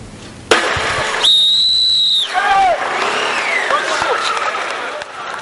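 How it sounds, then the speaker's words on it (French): A single long, loud referee-style whistle blast starts a semi-marathon of 106 men and women runners at a military sporting event, followed by crowd noise and voices. "au coup de sifflet et du départ donné par le ministre de la Défense nationale pour ce semi-marathon"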